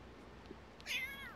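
A cat in Sims 3 Pets gives a single short, clear meow near the end after a quiet stretch.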